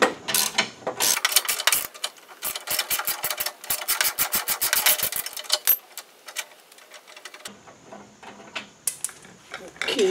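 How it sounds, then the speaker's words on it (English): A nut on a hydrostatic drive being loosened by hand with a 13 mm socket, giving rapid clicking ratchet bursts and metallic rubbing, close and fairly loud, in short repeated runs. "Now I've got a 13 millimeter socket, and I'm just going to go by hand."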